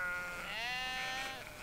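A single drawn-out sheep bleat from a flock grazing in the Retezat mountains, clear and fairly close, wavering for over a second against a steady outdoor background.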